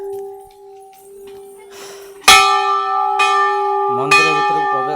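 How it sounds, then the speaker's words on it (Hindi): A metal bell at a mother goddess temple is struck three times in succession. Each loud, ringing strike lingers over a faint earlier tone, and a voice is briefly heard near the end. "घंटी बजे देले"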